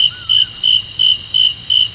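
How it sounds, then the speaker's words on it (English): Crickets chirp in loud, regular pulsing bursts, a steady high trill repeating about every quarter second with no other sounds. "I hear crickets in the background."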